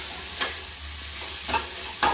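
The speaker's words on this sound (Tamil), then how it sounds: "இப்ப புளி சாதமா கிண்டி சாப்பிட போறோம்" Leftover rice being stirred into tamarind rice in a pan, three short scraping strokes against a soft continuous sizzle, close and alone.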